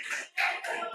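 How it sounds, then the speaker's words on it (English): Applause for a student speaker named Gabriela at a school event: a second of dense, close clapping from an audience, with a brief dip before it swells again. "And an applause for Gabriela"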